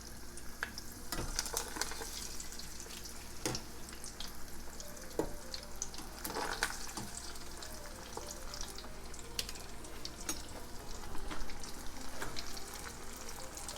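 Sicilian arancini rice balls frying in hot oil, a continuous dense sizzle and crackle with scattered sharp pops and the odd scrape as they are moved around.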